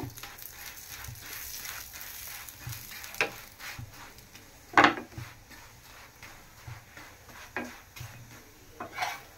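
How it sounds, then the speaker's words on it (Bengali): A paratha fries in a little ghee with a faint, low sizzle, punctuated by light scraping and tapping from a spatula on the pan at irregular moments. "পরোটাটাকে আমি ঘি দিয়ে ভাজতেছি, বেশি না, অল্প অল্প"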